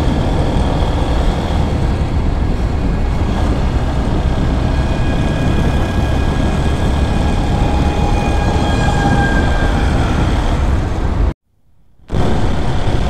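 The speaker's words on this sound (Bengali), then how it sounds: "ফারাক্কা ব্যারেজে ট্রেনের দেখা পেলাম" A train passes along the Farakka Barrage in steady, loud rumbling that holds for about eleven seconds. A brief gap of near silence follows, and then the roar returns.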